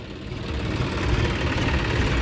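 A John Deere 5050D tractor with power steering and 750/16 front tyres runs with its side brake applied, giving a steady, low, rumbling engine drone with constant vibration throughout, close up and with no talking.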